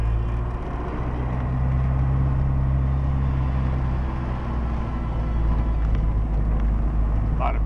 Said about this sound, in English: Big metro buses.